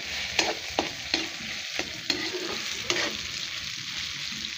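Sliced hotdog frying in a pan, a steady sizzle broken by a series of spatula knocks and scrapes at irregular intervals, close and moderately loud.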